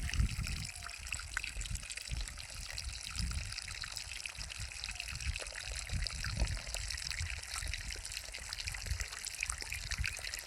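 Water runs and trickles steadily while greens are washed by hand outdoors, a continuous close splashing stream with small irregular splashes throughout.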